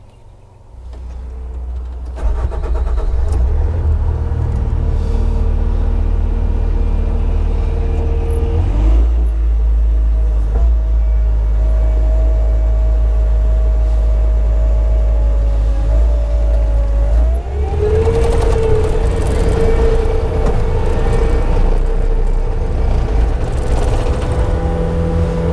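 A Bobcat T595 skid steer with a two-speed fault runs during a shift test. Its engine drones loud and steady throughout, with a pitch rising and shifting partway through as the machine changes speed.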